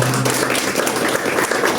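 A church congregation claps together in praise during a Sunday service, a dense, loud, continuous wash of many hands with a faint voice briefly underneath at the start.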